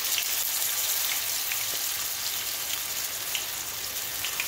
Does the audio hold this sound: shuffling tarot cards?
no